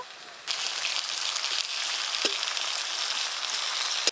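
Pumpkin slices sizzling in hot oil in a pan after being turned over. A steady, loud frying hiss swells after a soft start and carries a faint clink near the middle.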